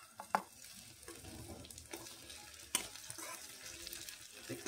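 Ginger-garlic paste fries with onion in a pan over a medium flame, giving a quiet, continuous sizzle broken by occasional sharp clinks of a utensil.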